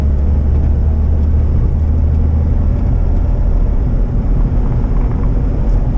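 A 2004 Jeep Wrangler TJ on Duratrax tires drives over snow, giving a loud, continuous low road and engine rumble heard from inside the cab with no talk.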